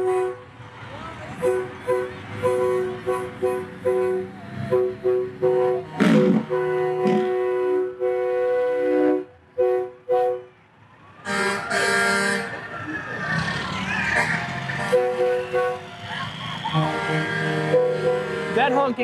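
Vehicle horns honk repeatedly in a lakeshore holiday parade, a run of short rhythmic toots followed by longer blaring air-horn blasts, with a person talking over parts of it.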